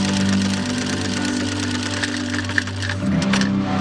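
Sewing machine stitching fabric for a designer trouser runs steadily and close, a continuous motor drone with a brief pause and restart near the end, no talking.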